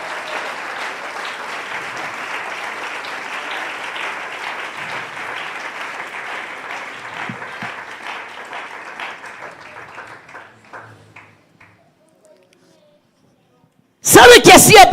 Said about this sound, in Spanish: Si ese aplauso es para él, de lo más fuerte.